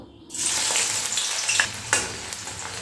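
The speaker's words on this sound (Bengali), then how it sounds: "এই পেঁয়াজ কুচি দিয়ে আমি বেরেস্তা ভেজে নেবো" Chopped onions hit hot oil in a wok and start frying for crisp fried onions, a loud broad sizzle after a brief quiet start, with occasional clinks and stirring clatter, no talking.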